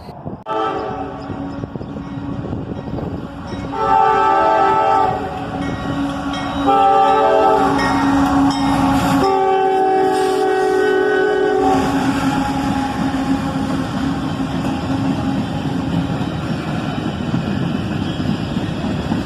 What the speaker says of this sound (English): 4 locomotives on this guy. A pair of AC44CWs lead